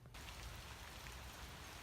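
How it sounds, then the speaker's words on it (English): Heavy rain pours outside as a dense, continuous hiss of drops hitting surfaces, steady and loud from just after the start to the end, with no voices. "it is raining pretty hard out"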